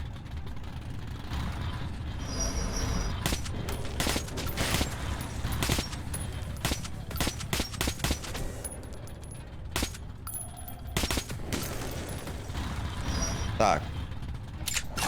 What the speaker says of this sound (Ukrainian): хотів би побачити, звідки по мені стріляють.